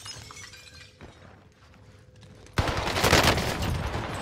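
An Owen gun fires in the Warzone video game, a loud sudden burst of rapid gunfire with sharp shattering crackle, breaking in after several seconds of quieter background game noise.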